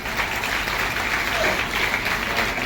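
A crowd claps in steady, dense applause at moderate volume throughout.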